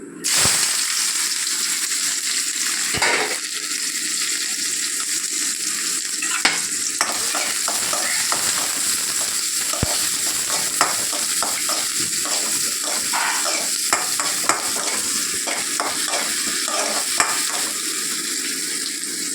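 Steady loud sizzling of onions frying in a pan, with occasional stirring scrapes and pops throughout; no voices.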